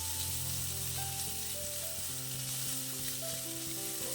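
Sliced onions sauté in a pan, giving a steady hissing sizzle with occasional stirring clicks, heard quietly and alone beneath faint sustained tonal hum.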